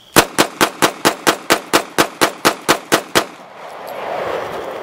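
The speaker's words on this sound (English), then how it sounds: "Where should I shoot from so I can see the flame?" A gun fires at night in a fast, evenly spaced string of about fourteen loud, close shots, followed by a low rumbling echo fading away.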